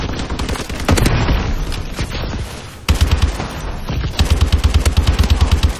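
Rapid automatic machine gun fire in Call of Duty Advanced Warfare during a gun game match, loud and close, in continuous bursts with a brief pause, then a steady rattling stream of shots.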